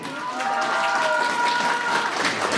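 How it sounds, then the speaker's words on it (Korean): Crowd applause at a Korean presidential candidate's policy rally, steady massed clapping throughout, with a faint voice over it early on. "여러분 다시 한번 힘찬 격려 박수를 보내주십시오"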